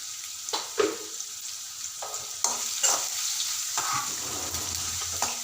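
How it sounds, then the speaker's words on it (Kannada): Chopped onions sizzle with a pinch of salt in a hot pan for liver fry, a continuous soft crackle broken by several sharp scrapes and clatters of a spoon stirring, close and with no voices. "ಆನಿಯನ್ ಚೆನ್ನಾಗಿ ಫ್ರೈ ಆಗಿದೆ."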